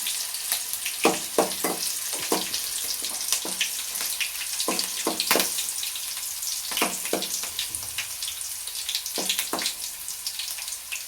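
Green chilies frying in oil over lowered gas heat for masala bhendi (okra), giving a steady hiss with clusters of short crackling pops throughout.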